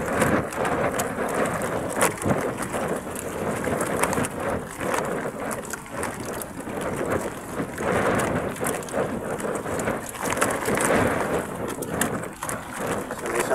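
Steady rain and gusting wind from a storm at sea around a fishing boat, a dense broadband wash with wind buffeting the microphone, holding loud and constant throughout.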